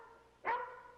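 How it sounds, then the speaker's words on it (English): A single sharp dog bark sounds once, moderately close and fairly loud, against a quiet background in a Western TV drama scene. "Now, that's your dog. Now, just shut her up, will you?"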